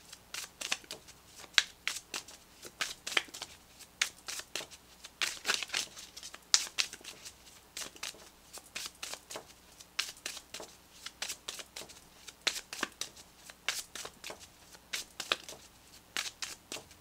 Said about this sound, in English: let's pull you an additional guidance card, Pisces, for this upcoming week